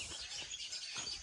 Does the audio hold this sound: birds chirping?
yes